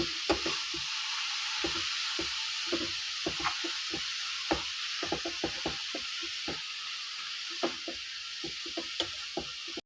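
Fenugreek leaves frying in a pan make a soft, constant sizzle beneath repeated wooden clacks and taps from stirring, close by and fairly quiet, with no talking.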